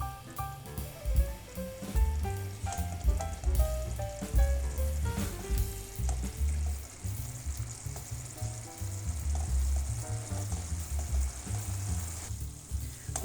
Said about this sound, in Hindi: अब अच्छी तरह से आपने इस मसाले को भूनना है